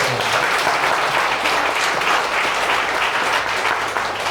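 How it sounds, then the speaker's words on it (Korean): Loud, dense applause fills a church during a thanksgiving service honoring a retiring senior pastor, steady and continuous throughout. "박수 소리가 너무 작은 것 같아요"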